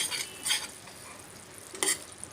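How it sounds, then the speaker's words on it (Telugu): Jaggery syrup with ghee bubbling in a pan while being cooked down for peanut chikki, with a soft steady simmer and a few brief louder bursts of bubbling or stirring, close and quiet. "బెల్లం పాకము ఇలా ఉడుకుతుంది."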